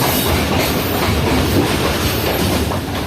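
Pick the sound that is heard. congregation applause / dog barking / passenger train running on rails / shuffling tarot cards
passenger train running on rails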